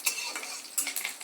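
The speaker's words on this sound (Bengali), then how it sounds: "দিয়ে একটুখানি নেড়ে নেবো কারি পাতাটা।" Curry leaves fry and crackle in a pan while being stirred, with soft scraping strokes and a steady light sizzle, close and without talk.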